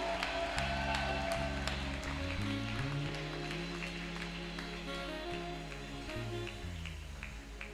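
A church congregation claims and cheers for Jesus during a revival service, a steady wash of many hands clapping with sustained music and organ-like tones running underneath throughout.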